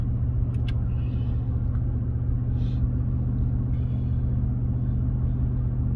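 A car drives along, its engine and road noise forming a steady, continuous low rumble from inside the cabin, with no talking.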